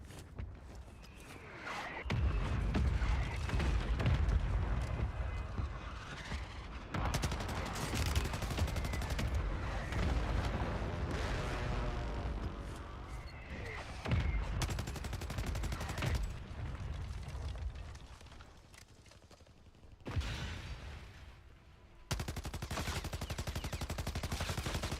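Bursts of rapid automatic gunfire in a shooter video game, loud and close, rattling in several long volleys separated by short pauses.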